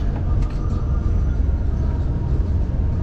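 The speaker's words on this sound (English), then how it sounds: "The train is packed." A loud, steady low rumble of a moving, crowded train, heard from inside a carriage, with a faint squeal above it.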